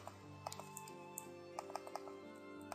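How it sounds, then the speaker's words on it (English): A computer mouse double-clicks repeatedly while working in an Excel spreadsheet, producing faint, quick paired clicks scattered in an irregular rhythm over a quiet room hum. "So continue to double click until all the hidden column shows up"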